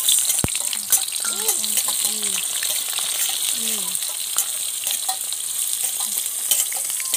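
Chicken eggs whisked briskly in a bowl for an omelette, steady scraping and clicking amid background hiss, with a few brief spoken words from people nearby, outdoors in village rice fields.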